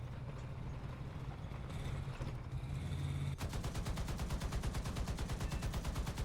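A T77E1 anti-aircraft gun in the War Thunder video game fires a long, rapid, loud burst of evenly spaced shots after a stretch of rumbling engine noise.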